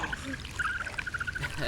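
Thin liquid trickles and dribbles from an E.T.-style film puppet onto a kid, a soft broken stream of small splashes lasting under two seconds, heard under background talk.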